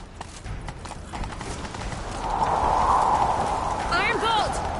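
Horse hooves clip-clop at a gallop in The Witcher 3, a steady rhythm that swells louder midway, mixed with in-game voices and effects, including a whinny near the end.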